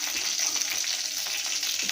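Fenugreek seeds dry-roast in a pan for sambar powder, giving a steady, close, hissing sizzle with faint crackle and stirring, unbroken and alone.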